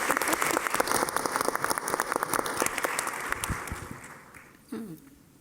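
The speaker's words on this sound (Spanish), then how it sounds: "Vamos a aplaudir." Dense clapping from an audience at a literary event in Mexico, loud at first and gradually dying away, with a brief voice near the end as it fades.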